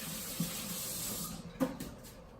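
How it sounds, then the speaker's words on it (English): Water from a kitchen tap runs steadily over hands being rinsed at a sink, a continuous soft hiss with a couple of small splashes and knocks. "let me rinse my hands"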